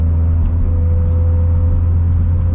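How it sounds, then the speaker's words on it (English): Turbocharged Toyota GT86 drives on a wet road in the rain, a loud steady low engine drone and road rumble heard from inside the cabin, with no clear shift breaks and no talking. "stop and go, going through the gears, downshifting,"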